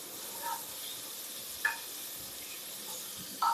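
Sliced onions sauté in a pan with a quiet, steady sizzle, broken by a few brief clinks and scrapes of stirring, soft and close with no talking.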